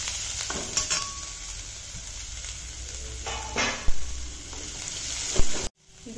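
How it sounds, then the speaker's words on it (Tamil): Chopped ginger, onion and curry leaves sautéing in hot oil for a dosa dish, a steady close sizzle with occasional stirring scrapes and clatters, no talking. "இப்போ நம்ம வெட்டி வச்ச இஞ்சி, வெங்காயம், கருவேப்பிலை எல்லாம் போட்டு நல்லா வதக்கிக்கலாம்."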